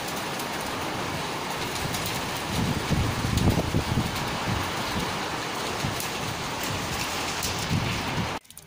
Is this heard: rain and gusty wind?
yes